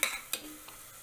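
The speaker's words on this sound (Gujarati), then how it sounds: "આપણે લીલા વટાણા ઉમેરી દેશું ફ્રોઝન કે લીલા તાજા કોઈ પણ તમે લઈ શકો છો સરસ મિક્સ કરી લેવું" Spoon mixing green peas into lentils and rice in a pot on a low flame, two quick close scrapes at the start, then a faint clink, with a soft sizzle underneath.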